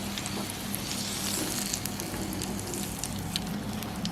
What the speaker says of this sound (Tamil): அப்படியே எல்லாத்தையும் பொரித்து எடுங்க.